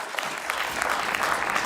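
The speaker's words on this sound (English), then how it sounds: "Who the fuck is clapping?" Scattered people clap in a Senate confirmation hearing room, a brief steady patter of applause that is moderately loud and continues without pause.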